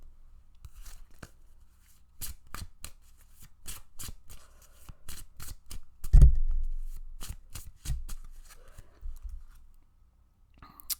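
Tarot cards are shuffled for a reading in quick, crisp riffles and slaps, a series of sharp close clicks with a louder flurry near the middle, quiet between bursts.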